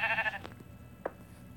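A sheep bleats in the video game Minecraft: one loud, wavering bleat at the start, then a shorter, fainter bleat about a second later, with no talking.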